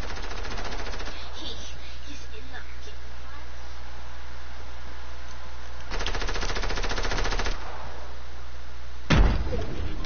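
Bursts of rapid automatic gunfire from a Fortnite match, a long loud volley midway and a sharp shorter burst near the end, with voices talking over the game sound.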